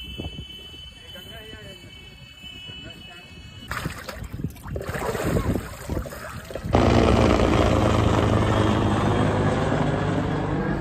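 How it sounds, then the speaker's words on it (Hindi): A helicopter flies low and close over the Sangam ghat river bank. Its rotor chop and engine whine grow louder until a heavy, steady roar takes over, with people talking underneath. "तो देखियो संगवारी इतना सामने से जाते हेलीकॉप्टर है"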